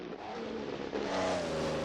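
Number 85 Grand Prix race car from 1934, racing at the Spanish Grand Prix, its engine roaring loud and harsh as it revs up midway, a steady mechanical growl with no voices.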